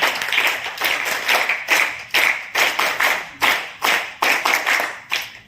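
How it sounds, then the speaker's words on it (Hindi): Clapping from an audience at a Scouts and Guides teacher-honouring ceremony on Teachers' Day, a rhythmic series of loud, near, synchronized claps at roughly two per second, alone without talk. "एक बार उनके लिए तालियां बजाओ।"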